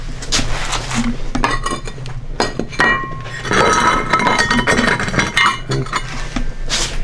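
Shards of a broken plate clink and scrape against one another in repeated sharp bursts, close and bright, with brief rustling between them and no clear talking.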